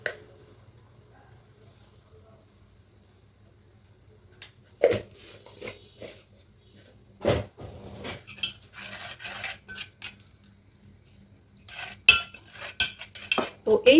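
A spoon stirring a little turmeric into a spice paste in a bowl, with scattered clinks and scraping taps in irregular bursts after a quiet start.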